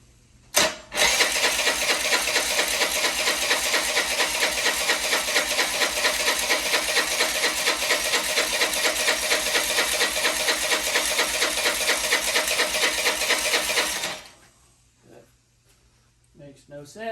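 A long-dead Honda Elite 80 scooter, its carburetor refitted and throttle worked by hand, is cranked: a continuous buzzing, whirring engine drone runs steadily for about thirteen seconds, then cuts out abruptly to near silence.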